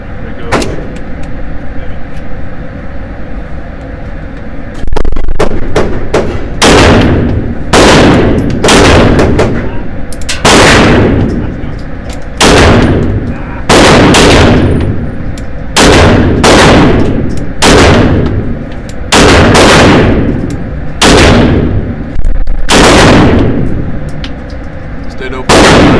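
Rapid CZ P-10F pistol gunshots at an outdoor range, many loud sharp cracks fired in quick strings and pairs with brief pauses, some ringing decay, over steady background noise.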